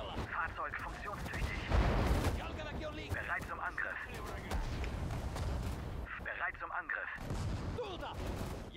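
Dense World War II battle din from Sudden Strike 4, with artillery booms and rapid gunfire rolling continuously across a farmstead fight, thick and layered throughout, with voices mixed into the chaos.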